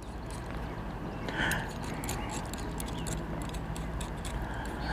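U-bolt being unscrewed on a homemade RV flagpole holder, a close run of small metallic clicks, scrapes and ratcheting turns, moderately quiet with no talking.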